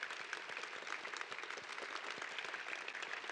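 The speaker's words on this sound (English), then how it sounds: "let's give one more round of applause for" Steady applause from a dinner audience at the Korbel Dinner, a sustained patter of many hands clapping at moderate distance without a break.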